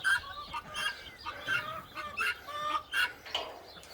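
A lone guinea fowl calls among free-ranging chickens and ducks at feeding time, its harsh, repeated cries coming in quick bursts about every half second, fairly close and loud, with no talking.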